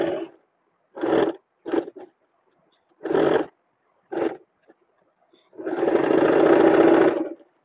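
Sewing machine stitching the seam of an organza slip: four short separate bursts of stitching, then one long steady run near the end, close and loud with no talk.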